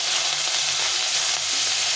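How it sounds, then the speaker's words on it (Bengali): Pieces of leftover fish fry in very hot oil, giving a loud, continuous, even sizzle and crackle throughout, with no voices. "তো চলো প্রথমে মাছটাকে ভেজে নিই।"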